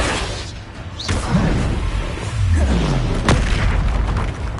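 Booming blast of the Confringo explosive spell in Hogwarts Legacy, with two sharp hits about two seconds apart over a busy, rumbling combat background.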